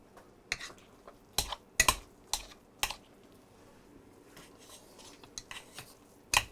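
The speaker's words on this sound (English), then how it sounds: "Be sure to run your masher around the side." A potato masher works through a pot of garlic mashed potatoes, giving sharp, irregular clacks and knocks against the pot's sides, close and fairly quiet between hits.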